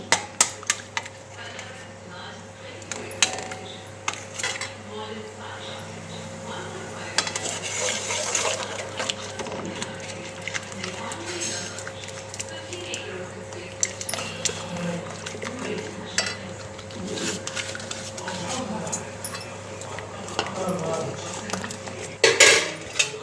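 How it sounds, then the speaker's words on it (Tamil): Rava (semolina) and cooked dal stirred in a pot for rava pongal, with a steady run of spoon scrapes and clinks against the metal sides, close and moderately loud over a constant low hum. "வேக வச்சு வச்ச பருப்பு போட்டுடலாங்க ஒரு கிளறி கிளறிக்கிட்டு ரவையை போட்டு"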